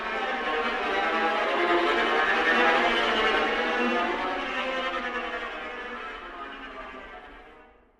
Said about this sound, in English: Now we can do the sul ponticello tremolo if you want to do something more horror or something more edgy.